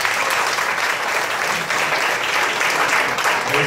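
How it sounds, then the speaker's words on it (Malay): An audience claps steadily at a gathering for a few seconds, a dense, even burst of applause heard nearby. "Bagi tepukan kan dia."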